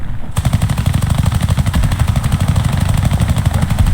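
Rapid, loud bursts of tank gunfire in a video game, with dense repeated shots running continuously from a brief quiet start, no voices.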